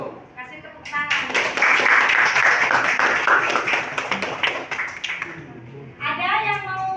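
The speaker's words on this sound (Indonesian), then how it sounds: "Kasih tepuk tangan." A classroom group claps together after a student presentation, a few seconds of brisk, dense applause that fades out, with voices speaking before and after.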